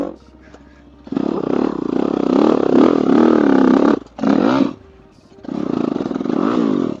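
A dirt bike engine lugs in too high a gear on a desert trail near Warner Valley, Utah, a loud, labored, bogging drone that cuts out and surges back in close bursts.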